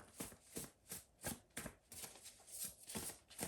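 Soft, rhythmic riffling of a deck of cards being shuffled repeatedly, faint and close, with no voices.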